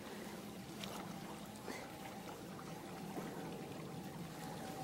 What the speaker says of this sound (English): here we are down by the Taunton River, and the water's kind of running slowly,